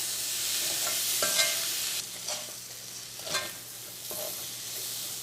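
Tomato masala for a Kerala cauliflower curry gets stirred in a pan, a few distinct scraping strokes of the spoon over a soft continuous sizzle, fairly close and without voices.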